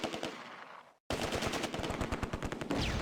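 An MG42 machine gun fires in the World War II game Close Combat, rapid rhythmic bursts loud and close, broken by a brief silent gap before a long sustained stream of fire resumes.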